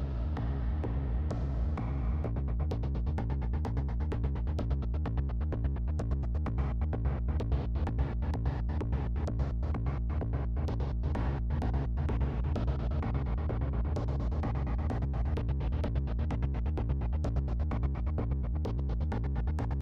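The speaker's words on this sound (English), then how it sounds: "The result is an actual gated reverb." A steady, pulsing electronic pattern with sharp gated reverb hits repeating rhythmically over a low throbbing hum, no voices.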